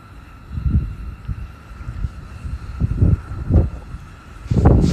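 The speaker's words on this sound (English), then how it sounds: "I'm sorry for the wind." Gusty wind buffeting a microphone outdoors in Rio Rancho, New Mexico, low rumbling bursts swelling and fading irregularly over a steady faint background hiss.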